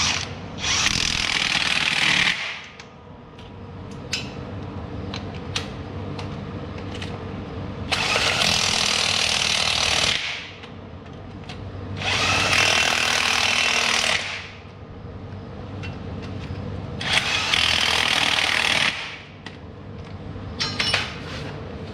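Power impact tool tightening bolts on the front idler of a Kubota SVL75-2 compact track loader, four long loud rattling bursts separated by quieter pauses with a low idling hum underneath.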